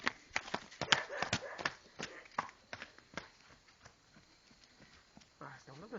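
Hooves clip-clop in an irregular trot over hard ground, close by, with voices talking over them and fading toward the end.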